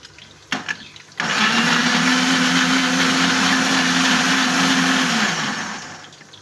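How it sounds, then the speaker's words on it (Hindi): An electric blender grinding tomatoes starts abruptly after a couple of clicks, holding a loud, steady whirring roar for several seconds before winding down. "हम इधर ब्लेंडर में अपना टमाटर जो है वो ग्राइंड कर लेंगे।"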